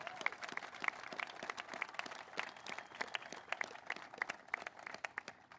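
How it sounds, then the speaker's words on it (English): Community crowd applauding at an arena groundbreaking ceremony, a steady patter of many hands clapping at a moderate distance, fairly faint and continuous for several seconds with a few sharper claps standing out. "Give yourselves a round of applause."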